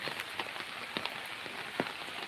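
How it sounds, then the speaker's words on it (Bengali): Rain falls steadily on a rural farm under heavy cloud, a soft even hiss with scattered louder drops and patters striking nearby surfaces, fairly faint and with no voices. "প্রচুর বৃষ্টি প্রচুর বৃষ্টি"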